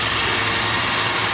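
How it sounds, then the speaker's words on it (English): Drilling a hole through the base of an IKEA-table 3D printer build for Z-axis motor wires, a steady loud broadband whir held throughout the short clip with no talk. "So now we're going to drill a hole in the bottom of here, ready for the wires to come through"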